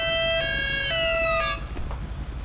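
A loud wailing police siren in GTA V with electronic, rising-and-falling tones cuts off after a second and a half, leaving engine rumble and faint clicks.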